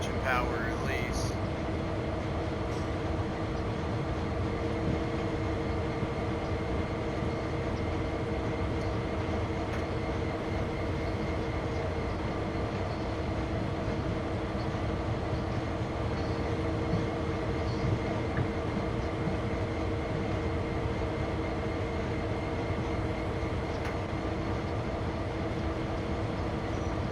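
Steady locomotive engine drone and rolling rail rumble from a train in Train Sim World 5, climbing a grade under one notch of power, continuous and close with a constant level throughout.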